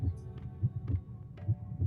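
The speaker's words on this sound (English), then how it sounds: "You do actually feel it vibrating in time with the faint heartbeat" A magic item gives off a slow, faint heartbeat sound effect of muffled low double thumps repeating steadily over a soft hum.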